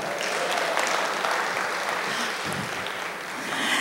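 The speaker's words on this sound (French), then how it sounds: "Applaudissez encore." Sustained audience applause from a crowd in a hall, steady and fairly loud throughout with no talk over it.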